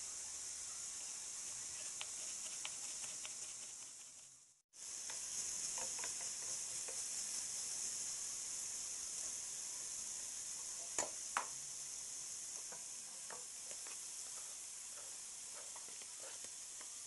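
Finely chopped shallot or onion with crushed garlic sizzling steadily in a pan for a Moroccan meal, a continuous bright hiss with small pops and crackles, and a brief break where the sizzle drops out before it resumes.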